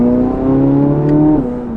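Engine of a Chevrolet Corvette C8 Z06 or Porsche GT4 revving up in sport mode, a loud, steady mechanical drone with rising and falling pitch that holds for nearly two seconds, then eases slightly, with no talking.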